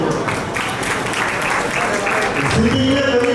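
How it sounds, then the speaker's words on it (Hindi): An audience at an Ambedkar Jayanti gathering of the Raigar community panchayat in Madipur claps loudly and steadily. The applause carries on throughout, with a voice speaking over it toward the end. "तालियां बजाओ इसके लिए।"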